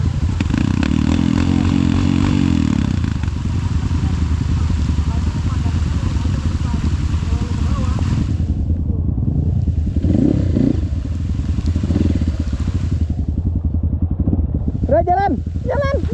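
A trail motorcycle in second gear on a slippery dirt track after sudden rain, its engine droning loudly and steadily throughout, with a brief drop in revs partway and a person talking over it.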